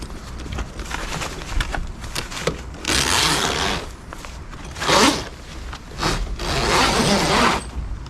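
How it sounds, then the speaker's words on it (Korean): A large zipper run along the zipper line of a tunnel-style coat tent, with several loud rasping zips in bursts separated by rustling fabric handling at close range. "요것도 여기에 지퍼 라인을 싹 끼워서, 지퍼도 좀 큼직한 지퍼가 달려 있습니다"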